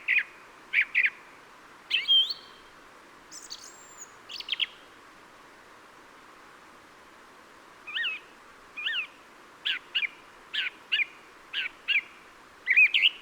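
Small birds chirp and tweet in a fruit garden in short separate bursts, a few calls at first, then a quiet pause, then a faster run of repeated chirps, clear against a hushed background.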